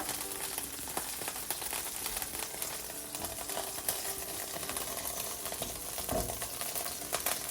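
Shallot and ginger sizzle and spit in a hot pan with fish juices for a salmon curry, a steady dense crackle with sharp pops throughout, close and loud, no talking.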